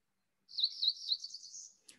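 A single bird delivers a fast, buzzy trilled burr call, one short high phrase heard clearly and fairly close against silence.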